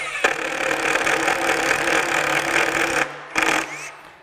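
A Metabo HPT 36V triple hammer impact driver runs a self-tapping screw, giving a dense continuous whirring rattle for about three seconds, a brief pause, then a short second burst, close and loud.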